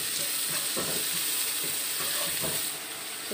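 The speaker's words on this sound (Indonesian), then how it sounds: "Minyak panas, masukkan bumbu halus guys. Tumis dulu, masukkan juga bawang merah." Ground spice paste and shallots frying in hot oil for fried rice vermicelli, a steady close sizzle and hiss with soft stirring scrapes running throughout.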